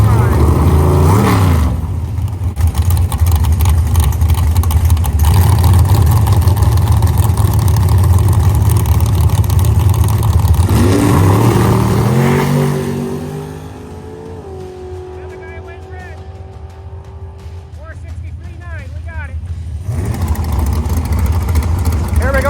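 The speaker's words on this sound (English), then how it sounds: "First round Saturday, they just got this dragster over there" Drag racing cars at Cedar Falls Raceway on a Saturday night, a dragster's engine roaring loudly and revving up before launching, then fading into the distance as a second car's engine rises again.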